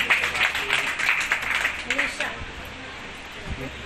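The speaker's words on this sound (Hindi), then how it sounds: "एक बार जोरदार तालियों से फिर सम्मान करें।" Applause at a ceremony honouring trained young women in Niyamatpur, a crowd clapping briskly for about two seconds before it fades out, leaving a speaking voice and low room noise.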